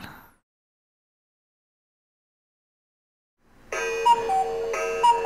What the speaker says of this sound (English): And there goes the timer